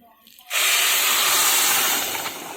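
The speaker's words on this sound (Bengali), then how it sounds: "জল দিয়ে দিচ্ছি।" Water poured into a hot pot of spiced mutton pulao with cardamom, bay leaf and dried chilli hits the fat with a sudden loud hiss and burst of steam that holds steady, then slowly eases.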